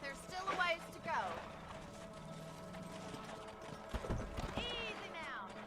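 Horse hooves gallop in Red Dead Redemption, a steady clip-clop rhythm running throughout under a voice calling out to the horse.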